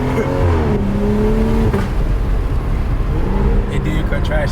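A tuned 900 hp BMW M5 Competition engine revs to around 3,000 RPM with a rising then settling growl. Loud road rumble sits underneath, and people talk over it.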